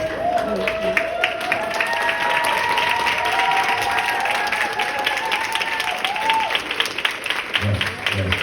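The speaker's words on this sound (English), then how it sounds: "make some noise, put your hands together for Stephon Speaks" An audience applauds and cheers at a live stage event, with steady dense clapping held throughout, a sustained tone running underneath, and a few louder claps near the end.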